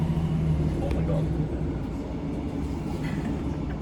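A train rumbles at a railway station, a dense, continuous low roar with faint rail clatter, fairly close and steady throughout, with background voices faintly mixed in.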